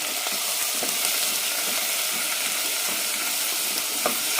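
Brinjal (eggplant) sautéing in a pan for chutney gives a steady, close sizzle and fry hiss with a few soft scraping stirs, and no voices.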